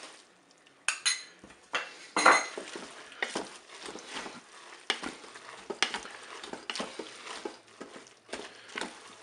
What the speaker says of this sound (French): je vais ajouter ma crème fraîche et je vais mélanger